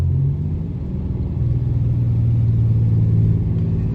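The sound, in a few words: truck engine brake and exhaust brake working downhill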